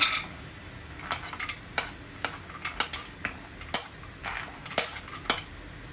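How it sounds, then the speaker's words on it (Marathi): Almonds and other dry fruits being fried in half a spoon of ghee, heard as sharp, irregular spoon clinks and scrapes against the pan over a faint sizzle, up close with no voices. "अर्धा चमचा घी घेते आहे त्याच्यावर ड्रायफ्रुट्स सगळे तळून घ्यायचे तर बदाम घ्यायचे"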